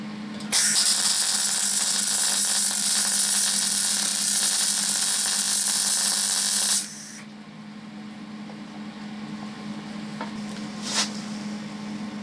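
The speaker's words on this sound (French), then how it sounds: "on trouve le bon réglage au niveau du crépitement du bruit de la soudure" MIG welding on thin sheet steel gives a loud, continuous crackling sizzle for about six seconds, then cuts off to a low background hum with a brief click near the end.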